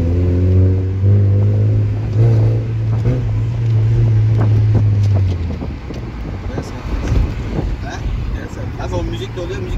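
An Opel car drives in İzmir, its engine droning and revving up with wind noise rushing past the microphone; people talk loudly over it inside the cabin.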